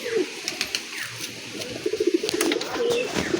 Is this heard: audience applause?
no